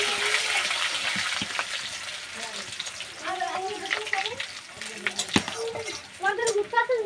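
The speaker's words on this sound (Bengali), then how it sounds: "এবার ছেড়ে দেবো রসুনটা" Garlic is dropped into hot oil already holding green and dried chillies and cumin for a village-style jackfruit curry, giving a steady sizzle with stirring scrapes and a voice talking over it.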